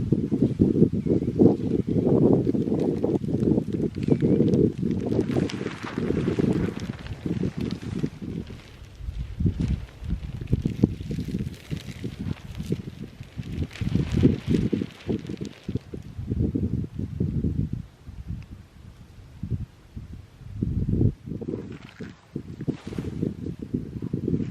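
Wind on a breezy day outdoors during buckwheat prep buffets the microphone in uneven gusts, rumbling low and loud, with rustling and brief quieter lulls throughout.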